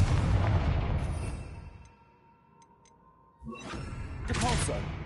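A Confringo fire spell explodes in Hogwarts Legacy, a loud booming blast that fades into quiet before another burst of crackling impact noise erupts.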